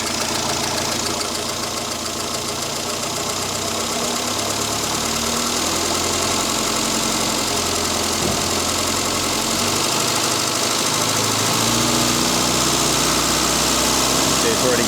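A Morris Minor engine runs loudly and continuously throughout while being tuned, revving up through its range with a rough, knocking mechanical tone and no break.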